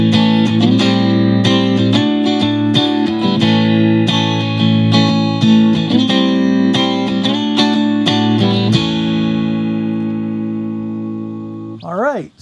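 Clean electric guitar played through the middle pickup, strummed chords and picked notes ringing out clearly for several seconds before sustaining and fading, with a brief pitch-bent note at the end.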